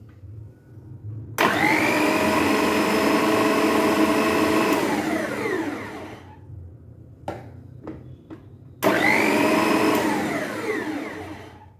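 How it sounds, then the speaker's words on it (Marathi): Food processor chopping fresh coriander leaves for kothimbir vadi, two loud whirring bursts of several seconds each with a brief pause and a few short pulses between them. "फूड प्रोसेसरमधून बारीक करून घेणार आहे."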